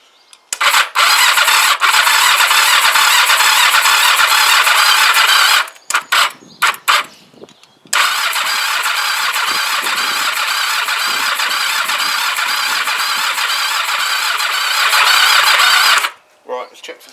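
A Kawasaki GPZ500s motorcycle engine cranks and fires, running loudly with a sustained mechanical roar, cutting out briefly with sputters around the middle before catching again and running until it stops near the end.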